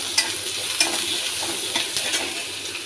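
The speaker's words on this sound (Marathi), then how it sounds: "तेल तापत ठेवलं, कढीपत्ता, आता टाकून आपण कांदा" Sliced onion and curry leaves fry in hot oil in a pan for rava appe, giving a loud, steady close sizzle with a few light stirring knocks scattered through it.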